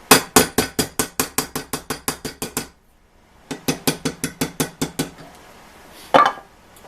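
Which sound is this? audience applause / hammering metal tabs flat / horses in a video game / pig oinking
hammering metal tabs flat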